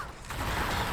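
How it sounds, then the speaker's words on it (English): Heavy mechanical clanking and creaking from a walking mech in Riddick: Escape from Butcher Bay, a steady, fairly loud grinding rumble that builds over a second. "The sounds of the mech running over"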